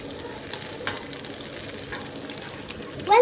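Food stirring in a cooking pan during a matar paneer recipe, a steady close frying hiss with a few soft scraping knocks and a brief sharper clatter at the end.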